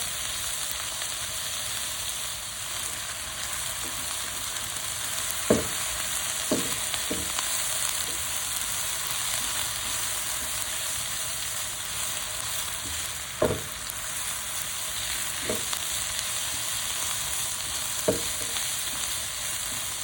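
Food fries over high heat in a pan, a continuous even sizzle and hiss with a few sharp taps and scrapes now and then as the pieces are turned.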